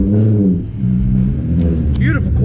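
Car with a loud exhaust driving through downtown, a deep, steady engine rumble that stays strong and close throughout with a short dip, while people talk over it.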